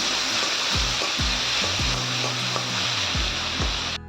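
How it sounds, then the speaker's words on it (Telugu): Steady close sizzling of tomato pieces frying in a pan, with a few soft spoon scrapes and taps over the hiss, ending abruptly. "టమాటా ముక్కలు వేసుకొని టమాటోస్ మగ్గినంత వరకు ఫ్రై చేసుకుందాం"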